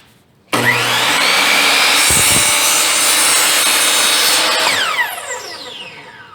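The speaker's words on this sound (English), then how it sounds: "I always like to let my saw stop before I raise the blade because this has an electric brake" A power miter saw with an electric brake cuts through baseboard molding in one loud, close burst of whining blade and rasping wood, then the electric brake winds the motor down to a descending whir.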